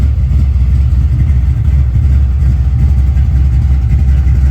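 A Chevy Caprice Landau with a blueprinted big-block engine idles loudly and steadily up close, a deep continuous low rumble with no breaks.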